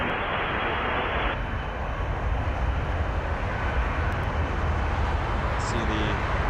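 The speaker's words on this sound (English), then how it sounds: "See the RJ 900, Jazz Canada 749 rolling." A Jazz Canada RJ900 regional jet rolls for takeoff at Toronto Pearson, a steady, broad engine roar that holds loud and even throughout.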